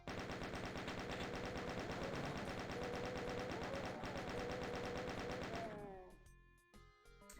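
Rapid chaingunner fire from a Doom game mod, a dense unbroken rattle of gunshots that stays loud and close for about six seconds, then cuts off into quieter game sounds.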